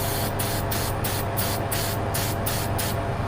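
Plant shine spray misted onto fresh Christmas wreath greenery in quick, evenly spaced hissing bursts, about nine short sprays in a row, close and loud over a steady background hum.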